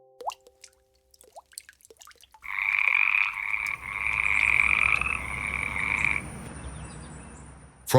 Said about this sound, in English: Frogs and toads are often heard before they're seen, their croaks echoing through the forest after a rain.